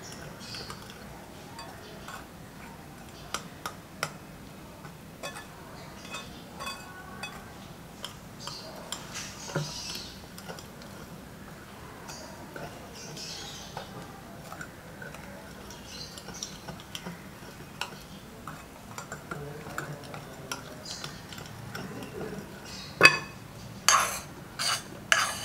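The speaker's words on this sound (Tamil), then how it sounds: "ஸோ கொஞ்சம் கொஞ்சமாக ஆட் பண்ணி மிக்ஸ் பண்ணிக்கலாம்." Powdered sugar being stirred into banana bread batter in a bowl, scattered soft clinks and scrapes of a utensil against the dish at an uneven pace, fairly quiet with a sharper knock near the end.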